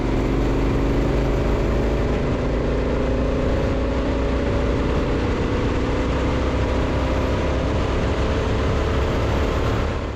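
A Honda Africa Twin Adventure Sports motorcycle accelerates in sixth gear, its engine giving a loud, continuous droning roar with a slowly rising pitch, mixed with heavy wind rush, and no talk throughout.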